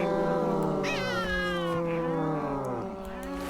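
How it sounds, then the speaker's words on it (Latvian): Cats in the video game DayZ give loud, drawn-out wailing meows close by, several overlapping, continuing throughout with no pauses. "Ai, blin, jūs trakie kaķi."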